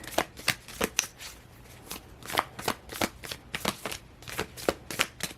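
Tarot cards shuffled by hand in a steady series of crisp riffling snaps and slaps, repeating about twice a second, close and moderately loud with a faint hum underneath.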